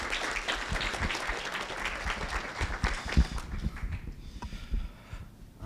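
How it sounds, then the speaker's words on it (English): Audience at a live pitch competition night clapping in a sustained round of applause, dense and steady, then thinning out and fading toward the end. "Let's give him a round of applause."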